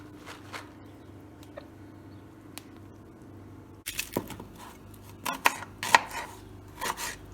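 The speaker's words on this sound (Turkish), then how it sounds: "İki adet soğanı doğruyoruz arkadaşlar." Two onions being chopped on a board while cooking Turkish dry beans: a few sparse knocks at first, then a denser run of close knife taps over a faint kitchen hum.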